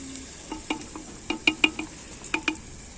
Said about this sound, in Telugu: ఇది ఇంకా కొంచెం వేగనిద్దాము వేగితే బాగుంటుంది